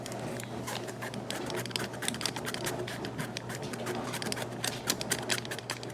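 Dry ingredients for sugar cookies are sifted, making a fast, continuous rattle of dense clicks and scratches over a low steady hum. It runs unbroken throughout, close and without speech.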